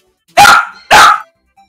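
A dog gives two loud, close barks about half a second apart, then goes quiet.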